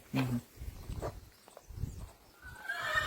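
A five-month-old foal gives short neighing calls, with nearby snorts and shuffling, and a faint high whine near the end.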